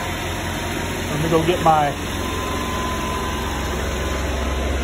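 Club Car golf cart engine running steadily near wide open throttle: a continuous droning hum held at constant speed throughout, with someone briefly speaking over it.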